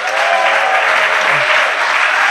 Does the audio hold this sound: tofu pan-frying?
no